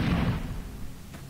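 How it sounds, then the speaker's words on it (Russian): An under-barrel grenade launcher firing in the online shooter Stalker Online, a single heavy booming blast at the start that rumbles and fades out. "у меня теперь есть подствольный гранатомет, поэтому часть мутантов можно из подствольника фигачить"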